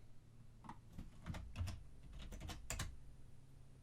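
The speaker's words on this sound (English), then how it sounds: "if I type something in this cell" Typing on a computer keyboard while entering text into an Excel cell, a short run of close, quiet, irregular key clicks.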